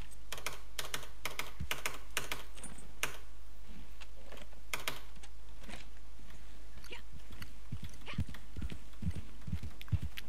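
Hooves of a Norfolk Roadster horse in the video game Red Dead Online clop in quick, fairly faint irregular beats over a steady low hum, thinning out midway and returning near the end.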